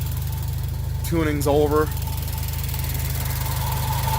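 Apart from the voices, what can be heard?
Subaru BRZ / Toyota GT86 engine idling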